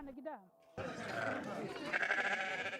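Sheep bleat at a spring shearing festival in a Tunisian barn, a few wavering calls up close followed by a dense, loud clamour of bleating and crowd noise, with voices mixed in.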